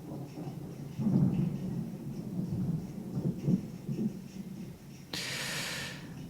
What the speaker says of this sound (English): we got another storm. Okay, it's a bit loud.